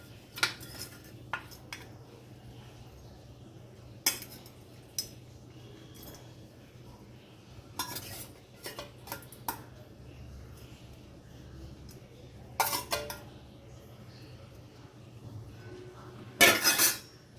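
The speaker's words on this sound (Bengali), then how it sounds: "এবার আমি এতে মাছগুলো দিয়ে দেবো।" Fish pieces go into bubbling gravy in a pan, with repeated sharp clinks and clatters of a utensil against metal between quiet stretches and a louder clatter near the end.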